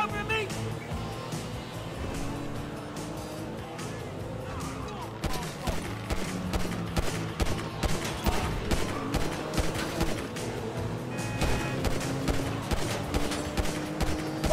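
Gunfire in GTA 5 during a shootout: rapid bursts of automatic and single shots crackling over layered game music and effects, with voices shouting in the mix.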